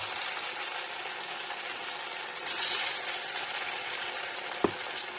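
Pakoras frying in a pan of oil give a steady, even sizzle throughout, with a brief louder burst midway and a sharp clink near the end. No one speaks.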